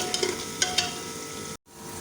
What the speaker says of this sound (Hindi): अब हम इसमें अपना कीमा जो है उसको डाल के फ्राई कर देंगे